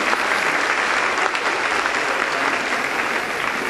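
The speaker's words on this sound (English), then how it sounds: "let's give all of them a big round of applause." Dense, loud applause from a crowd at a country days queen pageant, steady and unbroken throughout with no voices standing out.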